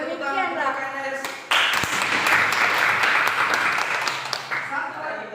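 A classroom group claps for a student teacher at a junior high school lesson, a burst of applause kicking in after a moment of talk and holding steady for a few seconds before easing off.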